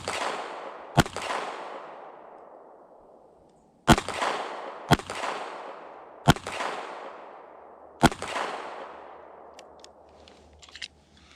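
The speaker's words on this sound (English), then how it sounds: "Pull the slide back. Let it go. Now we're ready to fire." A pistol fires at a target on a training range, five sharp, loud reports spaced unevenly over about ten seconds, each followed by a long ringing echo that fades out, with small clicks of handling at the end.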